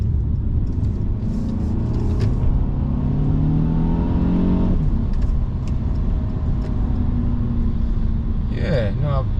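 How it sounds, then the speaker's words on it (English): A 2017 Mercedes-Benz C200 Coupe in sport mode drives along, engine note rising and falling as the throttle blips on downshifts, heard close from inside the car with a steady road rumble beneath. "Just pop it into sport mode, and it blips the throttle on the down changes"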